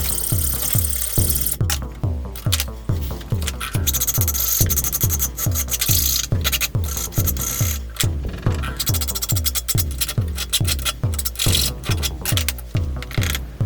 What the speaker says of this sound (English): So to cut the nut in half, I start by filing down